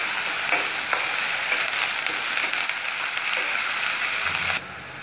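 Rohu fish frying in a pan for a spicy curry, giving a steady, dense sizzle with faint crackles that runs close and loud, then drops away abruptly near the end.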